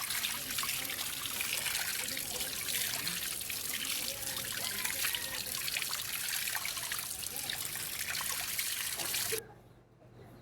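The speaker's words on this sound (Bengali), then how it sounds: "পাতাগুলো দিয়েছে পরিষ্কার পানি দিয়ে ভালো করে ধুয়ে নিচ্ছি।" Fenugreek leaves are rinsed under clean running water, making a steady trickling and splashing for about nine seconds before the flow cuts off, leaving a quiet hum.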